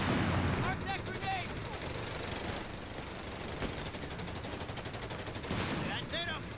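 Sustained World War II-era gunfire from Company of Heroes 3, heavy bursts of machine-gun and rifle fire rattling continuously at loud volume, with occasional shouted voices and battle noise mixed in.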